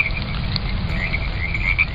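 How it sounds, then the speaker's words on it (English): A recording of a frog croaking plays, with repeated rough, rhythmic croaks over a low, steady background hum. "If we turn on a recording with sounds of any animal, a frog for example"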